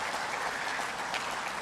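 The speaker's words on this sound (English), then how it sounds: "Please give a big applause to all of us." Audience applause at an international tourism investment forum, a dense, even wash of many hands clapping that holds steady and fairly soft for the whole short stretch.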